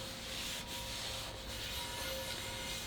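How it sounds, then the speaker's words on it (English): A paper towel rubs oil over the inside and outside of a cast iron skillet, a soft continuous scuffing close up with no voices. "I'm rubbing it all over the inside and the outside of this skillet."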